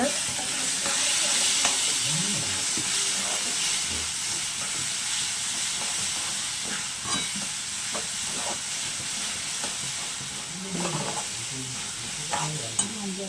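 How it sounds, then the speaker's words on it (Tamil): Tomatoes and masala spices sauté in a pan for a chicken curry, giving a steady, loud sizzle and hiss with occasional scraping stirs throughout and no talking. "இப்போ நம்ம தக்காளி வதங்கினதுக்கப்புறம் சிக்கன் மசாலா வந்துட்டு ஒரு ஸ்பூன் போட போகிறோம்"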